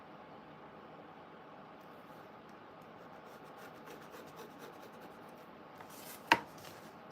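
Drawing a line down the center makes a faint, steady scratching rub of the marker across the surface, with a sharp tap near the end.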